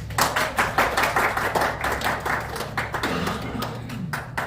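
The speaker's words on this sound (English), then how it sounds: "You deserve claps." A small group claps in a rhythmic run of hand claps at a martial arts black belt stripe test, close and fairly loud, with a little background noise.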